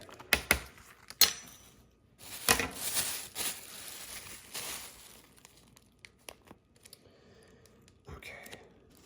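Crinkly vacuum-sealed plastic pack crackles and tears open in a few sharp bursts, with a longer rustling stretch in the middle, close up and fairly quiet.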